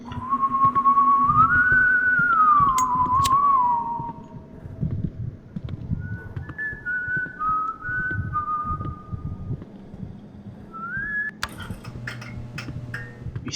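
Enemy character whistling a melody in the horror video game White Day on PS4, a clear, fairly loud tune over a low ambient hum that stops abruptly, followed by a few fainter whistled phrases and soft footstep-like ticks.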